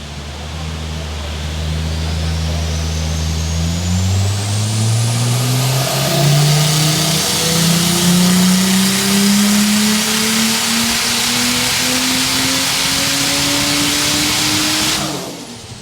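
A 950 rwkw Ford Barra engine on a dyno, with screamer pipes, revs hard and loud, its pitch climbing steadily for about fifteen seconds before cutting off abruptly.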